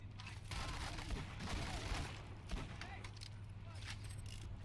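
Rapid gunfire and booms from a sniper rifle in Borderlands 2, a dense steady barrage of game combat sounds with a low background hum, no speech audible.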